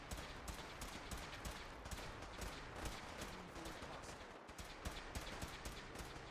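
Dense, continuous gunfire in the video game Fallout 4, with rapid repeated shots and bursts stacking into a steady barrage throughout.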